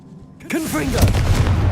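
A Confringo spell blast in Hogwarts Legacy: a sudden broadband burst with a tonal swoop at its onset, rolling into a loud, sustained fiery rumble that lasts the rest of the moment.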